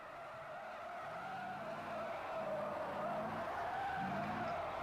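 A 1972 Formula 5000 race car running off the track at Brands Hatch during the Race of Champions, heard as a sustained, fairly distant engine drone with tire skidding noise, no talking.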